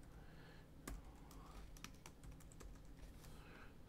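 Faint, quick keystrokes tap out a label on a computer keyboard, an irregular run of soft clicks in a quiet room.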